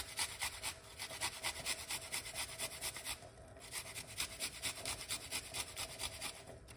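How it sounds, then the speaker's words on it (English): Garlic being grated against a rasp-like grater, a steady rhythmic scraping of repeated rubbing strokes, close and fairly loud with no talking. "the best thing to do with the garlic is grate the garlic"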